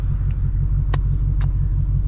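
A Ford Mustang EcoBoost drives past, its steady low engine rumble heard from close by, with a couple of faint clicks over the drone.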